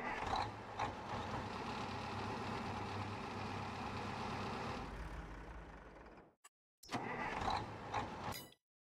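Tractor engine in Farming Simulator 22 runs as a steady, loud drone for about six seconds, cuts out abruptly, then returns briefly before stopping.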